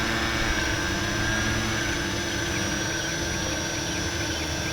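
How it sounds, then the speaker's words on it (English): A Parrot ANAFI foldable drone in flight gives off a steady, even whine with a constant high hum, unchanging throughout and without any talking. "This drone is super quiet."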